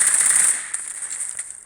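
Rapid, crackling bursts of video game gunfire from a combat arena fill the moment, a dense hissing rattle that stays steady at first and then thins into scattered pops.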